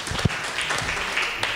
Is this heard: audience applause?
yes